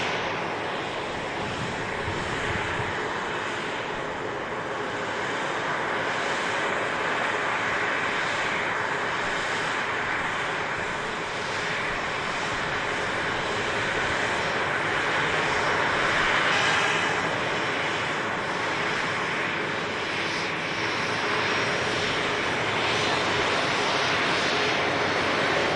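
A SunExpress airliner at Manchester Airport, on a damp runway, produces a continuous broad engine roar that holds steady and close for the whole stretch, swelling slightly midway, with no voices.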